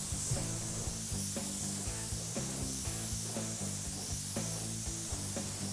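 A small spray gun paints a car firewall, giving a continuous airy hiss over a steady droning hum with faint intermittent knocks, close and constant throughout.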